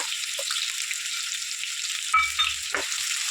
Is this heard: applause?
no